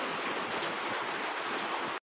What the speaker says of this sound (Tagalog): Lakas kasi ng ulan sa labas